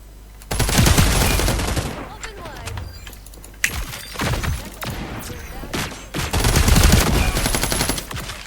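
Gunfire from a Desert Eagle in the FragPunk shooter comes in loud, close bursts of rapid shots, with brief pauses between volleys.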